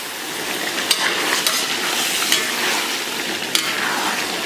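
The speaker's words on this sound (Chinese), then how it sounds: "给它简单煸炒一下。" Pork intestines with star anise, cinnamon, bay leaves, dried chillies and other whole spices stir-fry in a wok with soy sauce and oyster sauce, giving a close, continuous sizzle broken by scattered sharp scrapes and clinks of the spatula.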